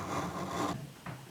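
A knife blade scrapes along fine ceramic stones on a Spyderco Sharpmaker in a couple of quick, close, soft rasping strokes, with no talking.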